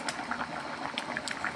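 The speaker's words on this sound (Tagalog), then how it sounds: "Kumukulo na." A pot of food bubbles on the stove at a steady boil, with soft popping and gurgling that stays close and moderately quiet, and no one speaking.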